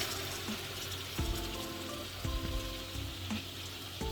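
Tomatoes and garlic frying in a large pot for a 12 kg spinach vegetable pulao, a steady close sizzle with occasional stirring clatters and bursts of crackle.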